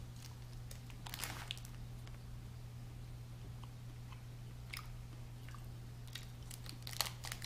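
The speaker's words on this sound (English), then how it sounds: "a little Hershey's. See what this can be like. So it's white chocolate." Someone bites and chews a Hershey's white chocolate candy corn bar, soft scattered crunches and chewing close to the mic over a low steady hum, faint and sparse.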